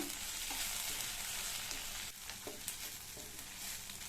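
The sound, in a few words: onions frying in pan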